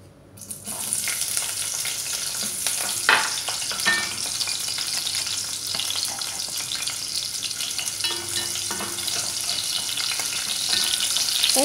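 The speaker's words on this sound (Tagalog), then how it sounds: "Una, igisa muna natin yung sibuyas." Onions sautéing in a pan for tinola, a loud, steady sizzle close by with occasional stirring scrapes and no talk.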